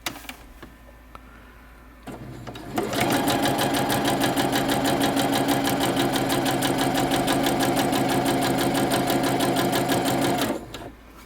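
A sewing machine stitches across the bottom of a fabric letter keychain, its steady rapid needle rhythm running continuously for about eight seconds after a brief start, close and fairly loud.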